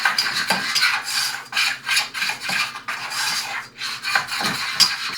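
Play clay is stirred continuously in a pot on the stove, giving a close, steady scraping and rubbing with repeated stroke surges and no talking.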